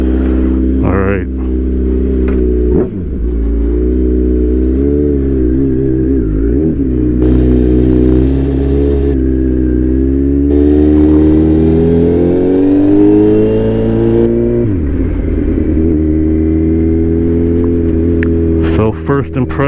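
A Kawasaki Z900 motorcycle fitted with a Brock's Performance ECU flash tune, heard on a ride: loud engine note rising through repeated throttle pulls and quick-shifted gear changes, with brief dips between surges.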